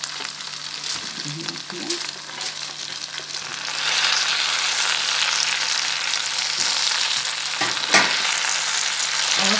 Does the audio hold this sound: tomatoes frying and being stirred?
yes